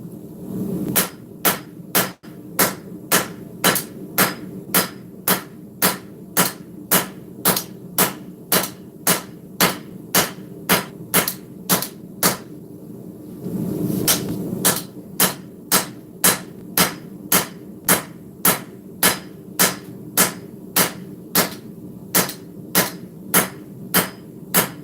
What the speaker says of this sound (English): all my neighbors hear them hammer blows